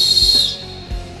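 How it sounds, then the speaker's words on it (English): A JetScream emergency whistle, a pealess design, is blown hard in one loud, shrill, sustained blast that cuts off abruptly, followed by quiet. "To use the JetScream Whistle, simply place your mouth over the opening and blow with force."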